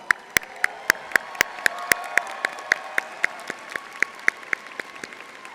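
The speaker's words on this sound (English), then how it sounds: "let's start off with a round of applause" A single pair of hands clapping in a slow, steady, evenly spaced rhythm at a law school commencement ceremony, each clap crisp and close against a quiet room.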